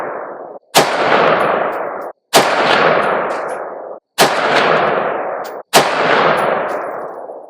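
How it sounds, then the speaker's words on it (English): A MARCK-15 rifle fires .223 full metal jacket rounds, four sharp, loud shots spaced about two seconds apart, each followed by a long ringing echo that fades slowly. "we're gonna shoot 5 rounds here on the bottom target, same distance, 50 yards"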